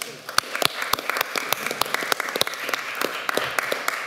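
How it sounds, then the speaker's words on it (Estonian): A council chamber audience applauds a colleague who has just become a mother, with dense, steady clapping from many hands that carries on through the whole stretch. "teha nüüd veel üks aplaus Pilleriinule, kes sai emaks"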